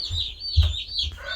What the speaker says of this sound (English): the Pearl, the mottled Orpington that hatched the last bunch, is now laying on a clutch